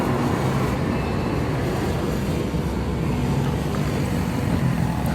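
A loader rickshaw's engine runs steadily at idle, a loud continuous low rumble with no speech over it.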